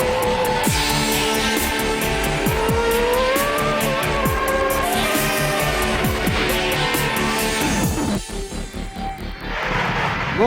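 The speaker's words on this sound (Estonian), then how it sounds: "Mootorid mürisevad täna Kose Risti krossirajal" Motocross bikes racing on the Kose Risti cross track in winter cold, engines roaring and revving continuously with rapid pitch sweeps as machines pass, loud and dense with several bikes overlapping.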